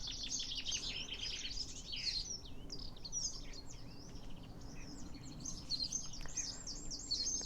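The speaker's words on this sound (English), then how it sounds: "Maybe just enjoy the birdsong for a moment." Steady songbird chorus in a cottage garden with a hawthorn hedge and sparrows, many overlapping chirps and twittering phrases repeating throughout over a soft background hush, no talking.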